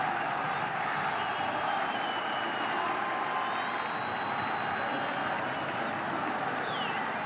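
Stadium crowd at an Asian Champions League quarter-final roars and cheers after Al Hilal score against Persepolis, a steady, dense wall of sound holding loud throughout.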